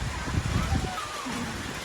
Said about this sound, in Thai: ตอนนี้ฝนตกมาละ ลมไม่แน่ใจว่าจะหยุดหรือยังนะนี่ยังยังพัดอยู่ เป็นพายุฝนฤดูร้อนเนาะ